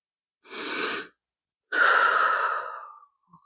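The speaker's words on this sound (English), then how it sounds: "So take a deep breath." A deep breath: a slow, airy inhale followed after a pause by a longer, fading exhale, close and alone in silence.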